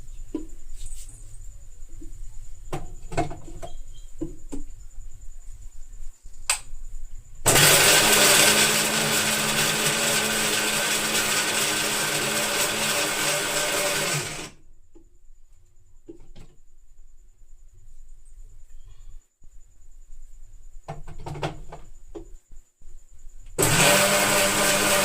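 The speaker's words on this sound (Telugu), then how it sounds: "అందుకని నేను మిక్సీ పెడుతున్నాను." A kitchen mixer grinder blends raw mango into pulp in two loud, steady whirring bursts, about seven seconds and then a couple of seconds long, separated by quiet stretches with faint handling knocks.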